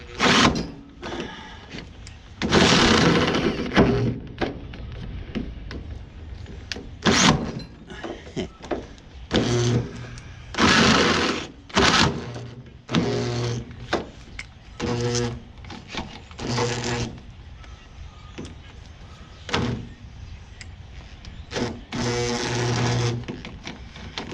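A weak electric drill struggles while drilling a trailer guide pole, giving repeated short, uneven bursts of whirring that start and stop throughout, moderately loud, with brief clunks between them.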